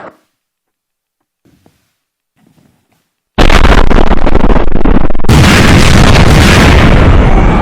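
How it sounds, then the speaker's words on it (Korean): A stage drama's explosion effect starts after near silence as a sudden, very loud roaring blast, then surges again into a sustained, thundering rumble that fills the remainder. "이 폭발 소리는 우리 2천만의 함성이다."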